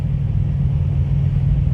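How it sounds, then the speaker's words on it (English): A flatbed truck passes close by, its heavy low engine rumble steady and loud throughout; no distinct banging of loose cargo stands out. "it's a flatbed and he's got some stuff banging"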